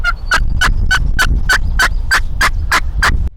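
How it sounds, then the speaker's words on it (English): A wild turkey gobbles repeatedly in the woods, about a dozen sharp, evenly spaced rattling bursts in quick succession, loud and clear against a low background rumble. "another bird gobbles down the hill"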